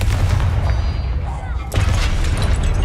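Two heavy magical blasts from the Confringo explosive spell in Hogwarts Legacy, a rumbling burst at the start and a second, sharper explosion about halfway through, loud and close.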